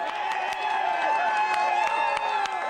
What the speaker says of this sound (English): Labour cheering as they gained 2 seats